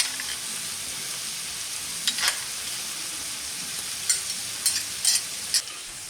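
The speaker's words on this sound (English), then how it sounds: "we're going to caramelize these onions" Onions with pepper and minced garlic caramelize in a pan, giving a steady close sizzle broken by a few sharp stirring scrapes and clicks, with no talking.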